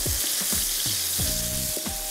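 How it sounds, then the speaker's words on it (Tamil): Tomatoes sauté and sizzle steadily in a frying pan for Punjabi sabji while a spatula scrapes and stirs in repeated strokes, close and loud. "தக்காளி இன்னும் கொஞ்சம் வதங்கணும்."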